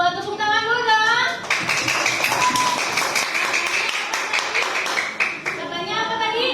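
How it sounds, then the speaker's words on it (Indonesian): Classroom of children clapping hands together on a teacher's cue, a dense burst of many small claps swelling and then fading, with young voices chattering at the start and end. "Tepuk tangan dulu dong."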